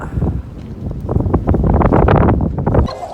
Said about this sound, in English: Wow, do you feel that wind?